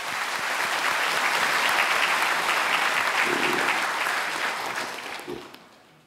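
An assembled audience at a founding ceremony applauds to welcome a speaker, a broad steady roll of many hands clapping that holds for several seconds and then fades away.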